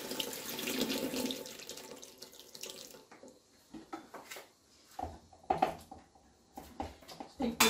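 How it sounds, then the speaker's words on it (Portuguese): Hot water is drained from a pot of chayote, pouring and splashing into a sink for a few seconds, followed by scattered clinks, thumps and light handling noises. "Acho que tem que escorrer uma água que eu coloquei"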